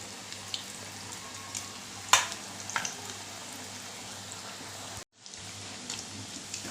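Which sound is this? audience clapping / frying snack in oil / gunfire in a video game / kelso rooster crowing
frying snack in oil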